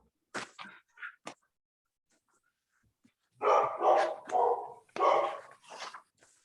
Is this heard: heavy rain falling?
no